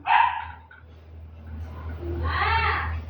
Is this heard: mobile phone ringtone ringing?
no